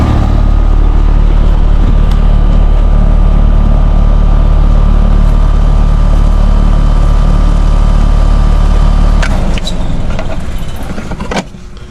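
The small PSC motor of an air conditioning unit that is overamping runs with a loud, steady low hum and drone, then the noise shifts and softens near the end.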